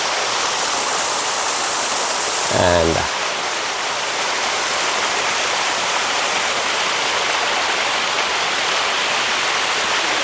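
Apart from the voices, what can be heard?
small waterfall at Ilaveezhapoonchira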